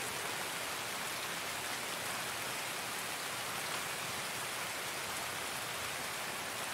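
Steady, dense rain in Escape from Tarkov hisses evenly throughout, a constant wash of droplets with no voices or other sounds.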